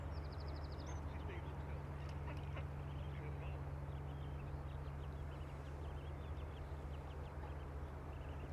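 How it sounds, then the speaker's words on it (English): Ducks quacking near their ducklings, heard faintly and at a distance as a short run of quacks over a steady background hum and rumble at an airport plane-spotting spot. "So we have several lady ducks with ducklings"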